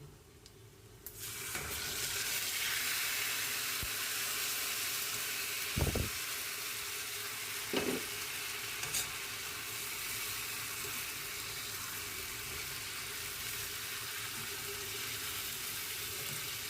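Mangoes for a sweet-and-sour pickle sizzle in a pan with five-spice and dried red chillies, a steady hissing fry after a quiet start, broken by a couple of clanking stirs and knocks.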